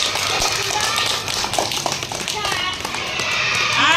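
Children in a first-grade classroom clap together in a rapid, uneven patter of many small hands, the claps running steadily throughout under an adult's voice speaking nearby.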